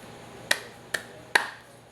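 Three sharp, evenly spaced claps from an online class demonstration, each crisp and close with a quick decay, then quiet.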